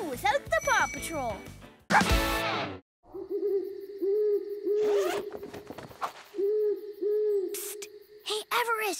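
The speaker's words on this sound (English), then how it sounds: "It was just an owl hooting." An owl hoots repeatedly in a low, steady series in a PAW Patrol cartoon, set among cartoon sound effects, a zipper-like rasp and brief rustling.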